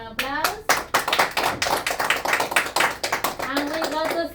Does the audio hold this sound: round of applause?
yes